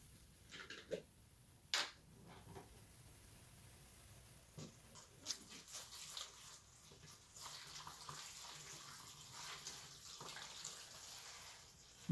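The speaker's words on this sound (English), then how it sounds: "So I will now go ahead and add some water to moisten my soil." Water is poured into seed-starting trays of soil for bottom watering, a faint, intermittent trickle and splash with scattered soft knocks and clicks in a quiet room.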